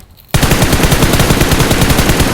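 Automatic gunfire in PUBG Mobile on the Nusa map: after a brief quiet moment, a loud, rapid, sustained burst of shots rattles on steadily to the end.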